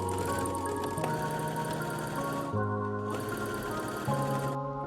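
A sewing machine stitches binding down onto fabric for a bodycon top, running with a steady mechanical whir and hum that changes pitch in stages as the speed shifts, with brief pauses between runs.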